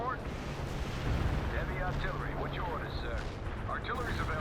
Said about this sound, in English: We're just gonna keep shelling that area because there's no reason why not to